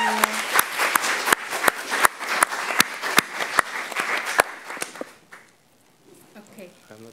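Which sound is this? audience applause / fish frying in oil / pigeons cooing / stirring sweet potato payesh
audience applause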